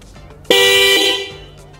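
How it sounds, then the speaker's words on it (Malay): A Hella classic aftermarket car horn with a paired high and low tone sounds one loud, close, steady blast lasting just under a second, then fades into quiet background noise. "Hella horn ni dia datang sepasang."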